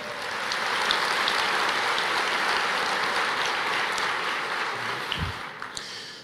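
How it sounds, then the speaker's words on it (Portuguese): A church congregation breaks into sustained applause, a dense, even roar of many hands clapping at once that fills the space and holds steady before tapering slightly at the end. "Você pode aplaudir o Senhor?"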